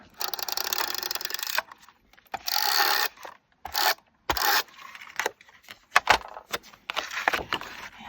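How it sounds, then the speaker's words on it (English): A tape runner rolled along the back of a card during papercraft, giving short rasping strips of sound in bursts with pauses between, close and fairly loud with no talking. "So just some tape runner on the back."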